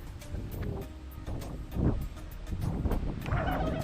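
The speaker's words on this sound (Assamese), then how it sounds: "ইমান ধুনীয়া বতাহ মাৰি আছে চব।" Strong wind rushes and buffets the microphone on a road trip from Chennai to Goa near the Goa border, with rumbling gusts swelling and easing continuously.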